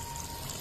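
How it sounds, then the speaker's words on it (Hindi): Water pours steadily into a potato and pea curry, a short, continuous splashing stream heard close up with no talking. "अब इसमें मैं डाल रही हूँ पानी।"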